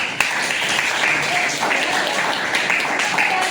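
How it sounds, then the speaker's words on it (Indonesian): In a classroom a group of students claps for a classmate, a brief burst of close, fairly loud hand clapping with a sharp tap near the start and some background voices. "Oke, kasih tepuk tangan untuk Jemas"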